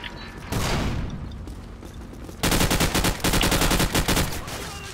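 AK-74 rifle fire in Call of Duty 4: Modern Warfare, starting with a short burst, then a loud, rapid run of closely spaced shots after a brief pause.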